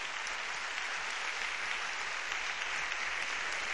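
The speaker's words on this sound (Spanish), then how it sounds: "Pues se merece un aplauso" Audience applause at a Twitter-themed talk event in Granada, a steady dense wash of clapping from a crowd lasting throughout, fairly loud and even with no talk over it.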